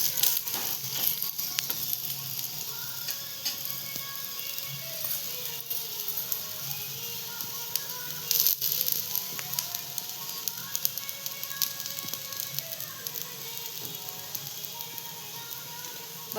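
A rice pancake is flipped and left frying in a pan, with a continuous fine sizzle like light rain, scattered crackles and a few sharper taps near the start and midway, alone and close.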